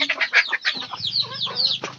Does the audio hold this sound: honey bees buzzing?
no